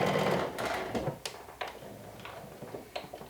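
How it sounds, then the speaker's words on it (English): Sewing machine running a long basting stitch around a garment sleeve curve, a fast mechanical tick-tock rhythm with short pauses and restarts, close and fairly loud, no talk. "running a basting stitch, which is a very long stitch, will help ease the curve"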